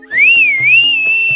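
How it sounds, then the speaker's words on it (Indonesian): A single long, clear whistle holds a steady high pitch with a slight waver, loud and close, with a few faint clicks beneath it. "Ia lalu bersiul panjang"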